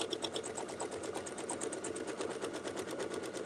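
A sewing machine stitches a row of clamshell quilt pieces, giving a steady, rapid mechanical chatter at an even rhythm, close by and alone.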